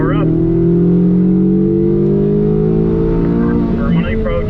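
Chevrolet Corvette C8 accelerating on a race track, a loud, steady engine drone heard close from inside the car and rising slightly in pitch, with a voice talking over it briefly.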